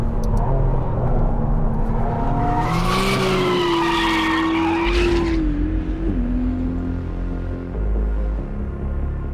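A McLaren Artura Spider sports car driven hard, its tires squealing in a long, loud skid that rises and wavers over the engine's roar before fading into steady driving noise.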